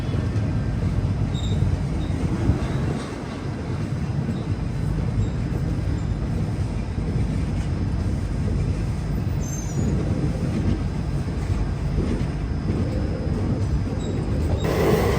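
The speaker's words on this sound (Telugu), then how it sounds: "చెన్నై సెంట్రల్ నుంచి హైదరాబాద్ వెళ్ళేటప్పుడు హైదరాబాద్ ఎక్స్ప్రెస్ అని పిలుస్తారు ఈ ట్రైన్ని" The Hyderabad Express passenger train, running from Chennai Central toward Hyderabad, rolls along with a loud, unbroken rumble of wheels on rails that holds steady throughout without pause.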